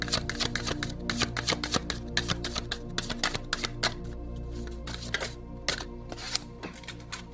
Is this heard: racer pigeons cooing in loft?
no